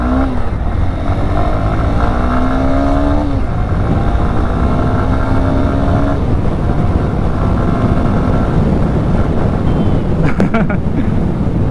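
A 2024 Honda Hornet 2.0 motorcycle, with an engine making 17.3 PS and 16.1 Nm, pulls away in first gear. Its engine note climbs steadily in pitch in two loud, sustained rising sweeps.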